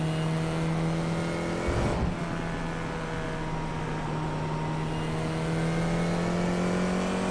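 Open-wheel FIA F4 race car engine in the iRacing sim, holding a steady high whine that surges as the throttle opens, with a brief rumbling burst near the start and no talking.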